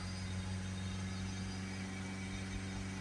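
Steady low diesel engine idle of a Peugeot Partner van with a worn particle filter, a constant droning hum with even vibration and no change in pitch throughout.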